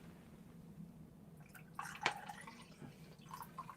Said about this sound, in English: Let me pour out some more drink.